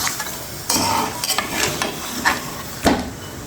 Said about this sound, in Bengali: এই পর্যায়ে আমি এটা নেড়ে চেড়ে খুব ভালোভাবে এই মশলার সাথে মিশিয়ে নেব।